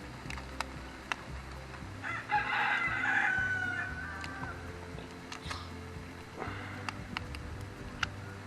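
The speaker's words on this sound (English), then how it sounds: "The chickens are celebrating. They're always celebrating." Chickens cluck from a short distance while a rooster lets out a drawn-out crow midway, with more scattered clucks and faint outdoor background around it.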